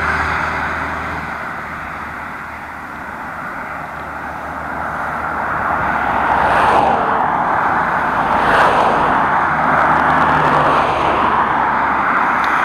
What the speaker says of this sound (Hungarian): Amúgy baromi nagy forgalom van itt a 71-esen.